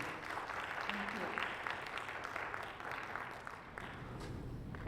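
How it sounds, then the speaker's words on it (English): At a longevity medicine conference, an audience gives steady, moderately distant applause in a large hall. It stays even and continuous throughout, with faint voices mixed into the room noise. "Give her a big round of applause"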